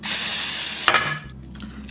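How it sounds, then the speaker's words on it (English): A dense hiss of cooking spray into an 8 by 5 bread pan lasting nearly a second, then a short pause and a quieter, softer hiss, close and loud. "I'm going to give it a quick spray, my cooking spray."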